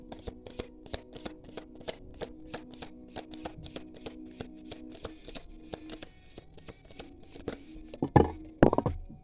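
Tarot cards riffled and shuffled in a steady run of crisp, rapid flicks, close and fairly quiet, ending in a few louder slaps as cards are drawn and laid down.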